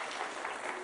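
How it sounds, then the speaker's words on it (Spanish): Audience applause in a talk on neurofinance at Politécnico Grancolombiano, with a steady dense wash of clapping throughout, moderately loud. "un aplauso ahí a la compañera."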